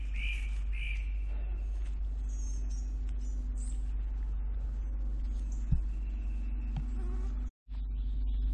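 Mosquitoes whine around a person in a creek bottom in Coal County, Oklahoma, faint high buzzing passes over a constant low hum, with a couple of brief knocks and a short dropout near the end.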